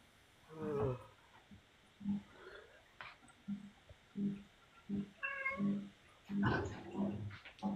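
A cat meows several times in drawn-out, wavering calls between short low grunting sounds, fairly close and quiet, with gaps of silence in between.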